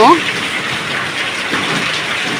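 Heavy rain pours down at a house in a steady, dense hiss that stays loud and close throughout, with a brief voice-like tone at the very start.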